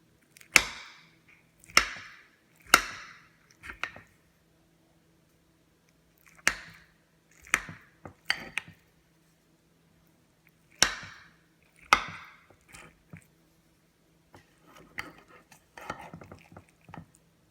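A knife slices into baked sweet plantain lasagna (pastelon), giving a series of sharp, crisp cutting strokes in irregular bursts, close and fairly quiet, with scraping and plating clinks toward the end and no talk.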